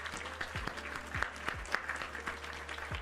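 Applause on a tech livestream, a short burst of clapping, fairly faint and slightly processed, with a low steady hum beneath it.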